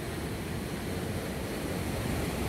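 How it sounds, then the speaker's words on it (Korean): Rain-swollen river in San Antonio rushing along a trail course after a day of rain, a steady, dense roar of flowing water filling the whole clip at constant loudness. "강물이 이렇게 많이 좀 흘러가는 것 같습니다."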